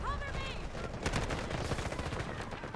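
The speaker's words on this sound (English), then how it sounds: "that's a blind fire shot for sure" Rapid gunfire in a free-to-play Battlefield game, a dense stream of sharp shots over a rumbling battle bed, fairly quiet in the mix with a voice talking over it.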